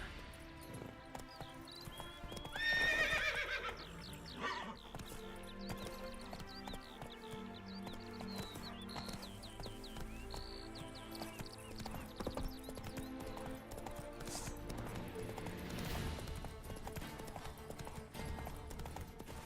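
Roach the horse in The Witcher 3 galloping with rapid rhythmic hoof clip-clops, a loud neigh rising near the start, and hoofbeats continuing with a game soundtrack underneath.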